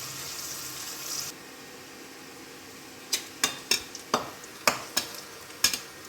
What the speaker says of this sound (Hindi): बड़ा प्याज काट कर इसमें डाल दिया